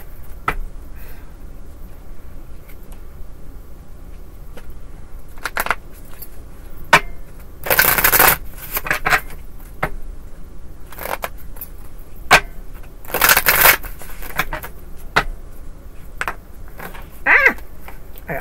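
A deck of tarot cards is shuffled close up, giving intermittent papery riffles and flicks in irregular bursts, several louder riffles standing out against a quiet room with no speech.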